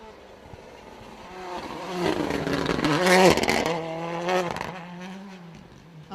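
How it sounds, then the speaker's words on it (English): Rally car climbing behind a hill on a forest special stage, its engine rising to a revving peak mid-way and then fading, distant and muffled through the trees. "That's the first car going up behind the hill now that we can hear."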